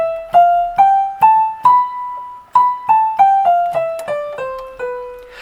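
A single melodic instrument plays the Locrian mode on B, stepping up the scale and back down, each note plucked cleanly and decaying, evenly paced and alone.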